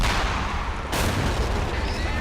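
Distant German artillery fire rumbles through a battle in the WWII strategy game Men of War: Assault Squad 2, a steady low roar of booms with one sharper burst partway through, under continuous battlefield noise.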